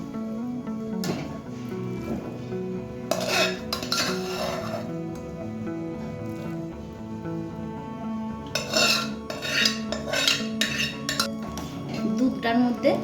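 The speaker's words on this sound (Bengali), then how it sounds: "এবার সেদ্ধ করা চালটা এর মধ্যে দিয়ে দিচ্ছি" Boiled rice is tipped into milk in a pot for date-palm jaggery payesh, with metallic clinks, scrapes and rubbing of a spoon against the vessel in intermittent bursts separated by quieter moments.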